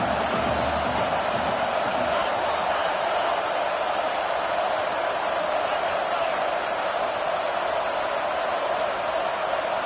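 A packed college football stadium crowd roars loudly and steadily throughout, a dense continuous wall of cheering and shouting with no break.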